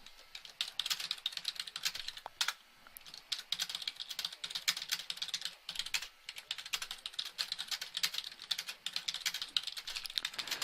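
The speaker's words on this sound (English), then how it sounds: "Sorry, I'm typing to Sean." Rapid typing on a computer keyboard goes on steadily for about ten seconds, a close, dense clatter of key presses with brief pauses and no voices.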